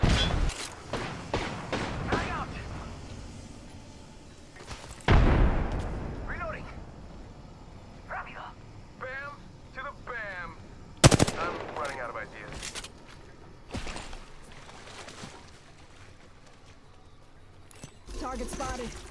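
Gunfire and explosions from a fast Apex Legends battle, with loud sharp bursts of shots and heavy booms spread throughout, under frequent game voice lines and player talk.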